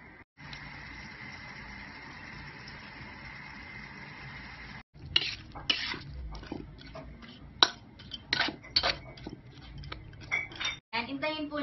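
Garlic shrimp cook in a pan with salt and black pepper, a quiet steady sizzle at first, then clinks and scrapes of a utensil against the pan while a person talks.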